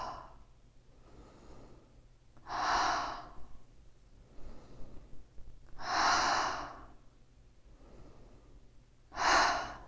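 Slow breathing in through the nose and out through the mouth, three loud close whooshing exhales spaced a few seconds apart with quieter inhales between, no talk.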